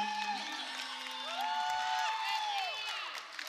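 Crowd noise from spectators at a girls regional tournament basketball game, a steady murmur with scattered shouts and whistle-like tones sustained throughout, with a voice speaking over it.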